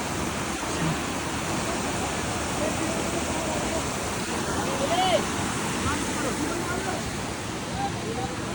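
Rushing waterfall beside the mountain footpath on the Baltal to Amarnath cave trek, a steady broadband roar that fills the whole scene without pause, with faint voices and footsteps of walkers nearby.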